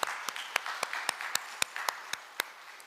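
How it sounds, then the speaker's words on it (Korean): A church congregation applauds in praise of the Lord during a Sunday service, a moderately loud wash of clapping from many hands with sharper individual claps standing out at a steady, rhythmic pace. "우리 주님께 영광의 박수를 돌려드리겠습니다"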